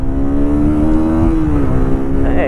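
A QJ Motor SRV125 125cc custom motorcycle engine held at the rev limiter under hard acceleration, a loud close, steady high whine that falters briefly and then resumes near the end.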